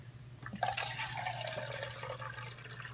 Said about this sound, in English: pour himself a glass of water